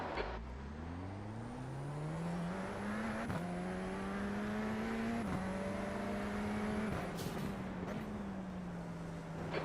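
Race car engines in iRacing rev and climb steadily through the gears from a standing start, a loud continuous whine with brief dips at each upshift, steady throughout with no talking.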